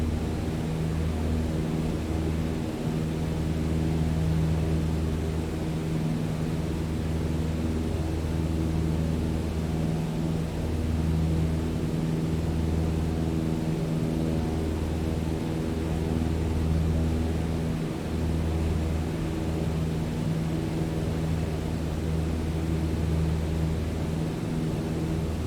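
A light aircraft engine at full throttle in Microsoft Flight Simulator, a steady loud drone with a low pulsing hum that holds unbroken throughout, alone without voices.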